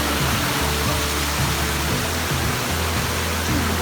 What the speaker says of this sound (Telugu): వాటర్ ఫాల్స్ దగ్గర